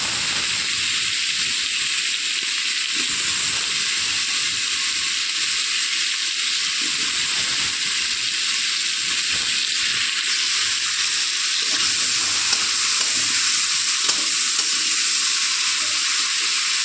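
Potatoes and tomato frying with prawns in hot oil, a close, steady sizzle and hiss with occasional stirring scrapes, continuous throughout.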